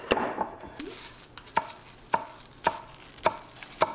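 Knife chopping green onion on a cutting board while preparing a Brazilian moqueca, a series of evenly spaced sharp chops about every half second, close and clear with no voices.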